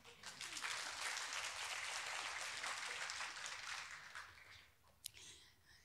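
Applause from a church congregation during an Easter resurrection service, a steady broad clatter of clapping that holds for about four seconds, then thins out, with a single sharp knock near the end.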